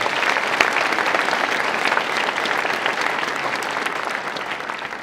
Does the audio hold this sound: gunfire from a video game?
no